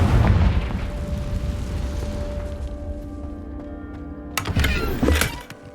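A Confringo blasting spell explosion in Hogwarts Legacy: a loud booming burst opens, then a low rumble fades under a sustained tone, and a second cluster of sharp bursts and crackles hits near the end.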